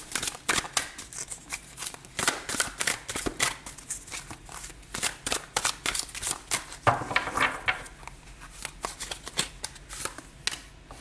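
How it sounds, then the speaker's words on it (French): Tarot cards tapped and riffled on a table, a busy run of crisp, papery slaps and flutters at close range, with no voice. "je tape les cartes sur la table"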